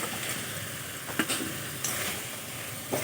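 Fried potatoes stirred into sizzling spice masala in a pan give a soft, steady frying hiss, with a few light clicks of a utensil against the pan.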